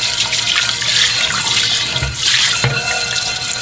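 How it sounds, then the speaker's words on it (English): Cold tap water runs steadily from a kitchen faucet into a pot that has just held cooked chicken, a continuous close splashing and hiss that holds at an even level without a break and with no voices. "Now I'm putting cold water in it so that it cools it down as well."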